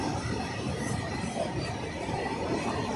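A 2.5 km long Indian goods train rumbles past continuously, a dense steady roar of wheels and rail noise filling the whole stretch, loud and close, with no pauses.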